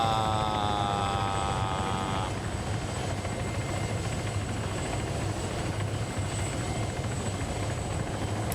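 A helicopter flies in an Arma PvP match, a continuous loud rotor and engine roar with a high whine over the first couple of seconds.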